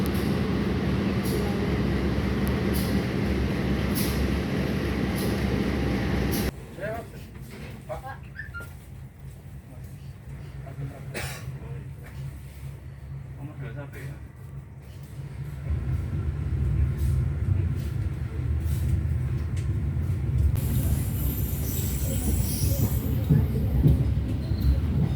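Riding aboard the Airlangga economy train from Surabaya to Jakarta, the carriage gives a steady rumble of wheels on rails, quieter for a stretch then louder again, with people talking throughout.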